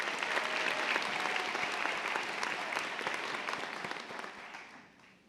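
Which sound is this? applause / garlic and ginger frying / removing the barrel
applause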